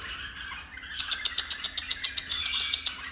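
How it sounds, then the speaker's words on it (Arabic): A small bulbul chirps in a steady series of sharp, quick notes, close and fairly clear, repeating rhythmically for a few seconds. "هسه راح اصور التغريد مالتي"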